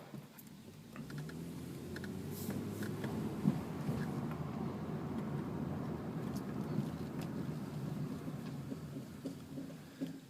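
1999 Toyota Solara SE V6 driving, heard from inside as a steady low engine and road rumble with faint scattered ticks, quiet and continuous throughout.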